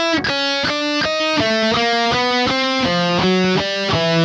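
A guitar plays a slow alternate-picking exercise, one string at a time, starting from the highest string. Single picked notes ring out evenly at roughly two per second with a slightly gritty tone. The pitch steps gradually downward, and nobody speaks.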